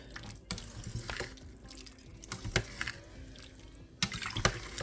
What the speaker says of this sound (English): I'm going to go ahead and stir this around just a little bit